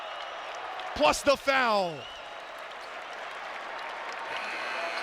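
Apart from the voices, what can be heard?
basketball crowd in the Dome cheering a slam dunk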